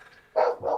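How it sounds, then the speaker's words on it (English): A dog barks twice nearby, two loud close woofs in quick succession, breaking into the quiet background of a darts league match broadcast. "Sorry about the dog barking if you heard that."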